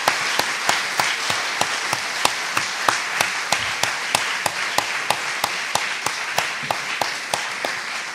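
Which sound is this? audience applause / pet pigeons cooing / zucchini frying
audience applause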